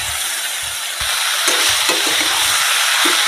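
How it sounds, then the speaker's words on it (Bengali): Katla fish pieces frying in hot mustard oil in a pan, a bright steady sizzle with occasional soft stirring and scraping thumps, close and loud without talk. "এরকম করে ভাজা ভাজা করবো"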